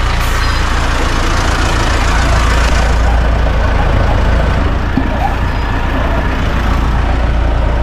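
A garbage truck's engine runs close by in a loud, steady rumble with broad road noise over it, continuous for the whole stretch and with no talking.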